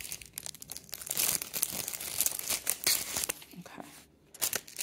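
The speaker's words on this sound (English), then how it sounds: "Sorry about the crinkling." Plastic packaging crinkling and tearing as a box is opened, irregular close rustles and crackles in bursts over several seconds.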